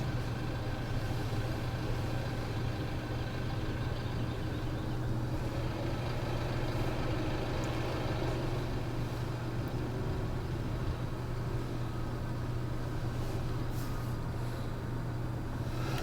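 Tractor engine in Farming Simulator 17 running at a steady low idle, a continuous droning hum with a strong low tone, alone with no talk.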